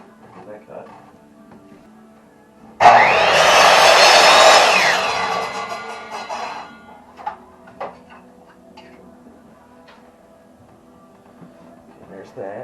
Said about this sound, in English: Take this over to the miter saw, get those cut.